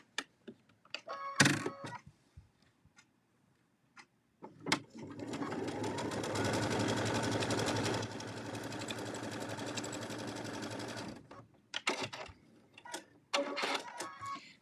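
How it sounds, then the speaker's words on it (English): A sewing machine stitches a pin tuck with twin needles and a 5-groove pin tuck foot, running in one steady, close whir for about six seconds, with sharp mechanical clicks and taps before and after. "Now it's sewn a pin tuck for me"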